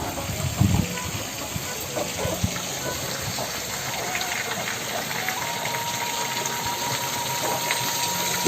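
Water runs steadily for ablution at a small village prayer house in the forest, a constant close gushing hiss with a brief soft voice near the start.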